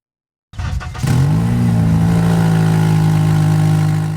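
A Honda Element starts up and runs loud without its catalytic converter, a sudden crank followed by a harsh, droning exhaust rumble that settles into a steady, raspy idle, close and continuous.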